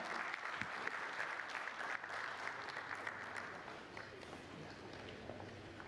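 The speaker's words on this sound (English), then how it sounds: "Can we have a huge round of applause, everybody?" A crowd at an awards felicitation ceremony for Mr. Hari Pal claps in a dense, continuous round of applause, heard fairly faint and distant, with some voices mixed in.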